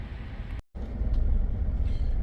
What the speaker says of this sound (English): So I am going to take this thing up the street. I want to see what it feels like, count the shifts